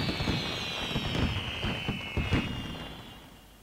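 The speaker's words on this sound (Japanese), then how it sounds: "花火。" Fireworks in the game Legend of Mana crackle and pop in a rapid, irregular series of bursts under a steady high whistling tone, moderately loud and fading toward the end.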